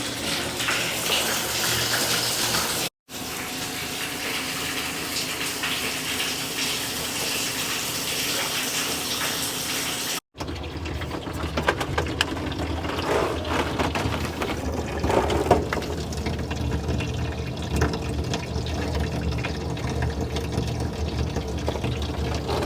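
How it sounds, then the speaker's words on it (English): Water pumped through a calibrated meter into a sprayer hopper, a steady loud gushing and splashing flow that runs continuously, briefly cut twice, then carries on with clanking and rattling underneath. "So I need to meter some water in"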